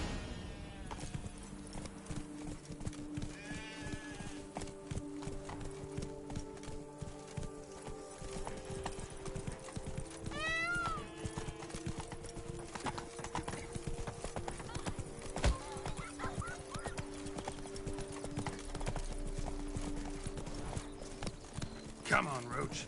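Hooves of Roach, the horse in The Witcher 3: Blood and Wine, clip-clop in a steady, moderately close rhythm over game music, with voices talking over much of it.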